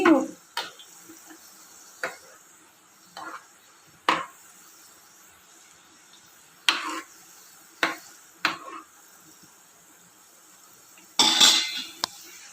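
Amla pickle ingredients cooking in oil are stirred in a pan, with sparse, separate clinks and scrapes of a utensil against metal over a faint background.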